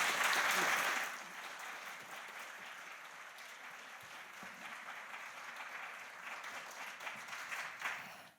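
A lecture audience bursts into warm applause welcoming a professor to the stage at an annual memorial disability lecture; the clapping is loudest at the outset, then settles into steady, sustained applause for several seconds.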